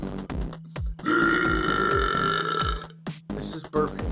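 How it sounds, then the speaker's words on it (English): A long, loud, drawn-out burp held for a couple of seconds, framed by shorter belches before and after, close to the microphone with no talking. "I'm gonna do a burp video for y'all."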